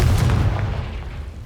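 A Confringo spell blast in the Hogwarts Legacy game, a single heavy booming explosion that hits at once and then fades into a low rumbling decay.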